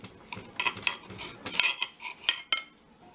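Metal cutlery scrapes and clinks against a plate as a knife and fork cut into a pork schnitzel with lima beans and caramelized onion gravy, a series of close, light, irregular taps and scrapes.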